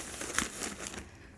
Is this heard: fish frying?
no